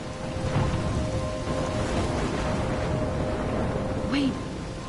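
A PS4 video game storm with steady rain across the whole scene and low rumbling thunder, with a brief swell near the end; a faint tonal hum runs underneath.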